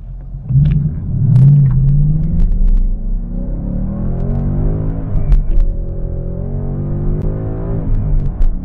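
A 2018 Ford Mustang GT V8 driving on a cold day, a loud deep engine rumble that swells as it revs up, then settles into a steady throbbing drone with rising pitch through gears, no voices.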